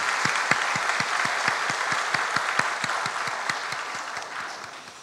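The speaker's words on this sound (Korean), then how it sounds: "박수하겠습니다." A church congregation applauds, steady rhythmic clapping at an even tempo, moderately loud and fading slightly toward the end, with no talking.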